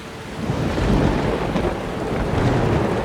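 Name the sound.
rain and thunder in the video game Skyrim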